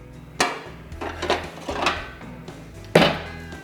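A metal grill plate goes into a Ninja Foodi indoor grill and air fryer with several sharp clanks and knocks close by, a few moments apart, the last one loudest.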